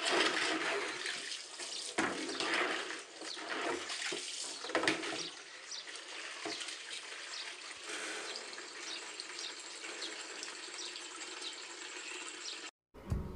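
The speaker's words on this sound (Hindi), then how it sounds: "यहाँ पर मम्मी पानी भर रही हैं और जो भैंस वाली टंकी पूरी खाली डली थी तो उसी को भर रही है" Water rushes steadily into an empty buffalo water tank on a farm, a continuous hissing gush that runs for several seconds before a brief cut.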